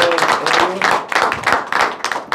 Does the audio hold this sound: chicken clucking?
no